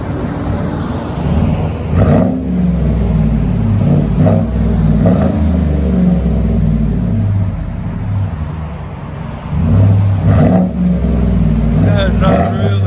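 Deep rumbling V8 exhaust from a Chevy/GMC 5.3L with a Cherry Bomb Extreme muffler and 5-inch tips, a loud steady burble idling with occasional throttle blips, close by.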